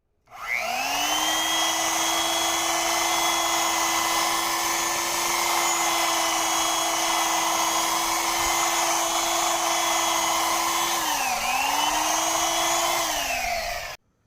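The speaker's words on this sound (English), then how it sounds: "I'm going to face grind it really quick, just to bring out things" A rotary grinder face-grinds a cosplay sword with a loud, steady high whine. The pitch sags once briefly under load, then recovers before the tool spins down.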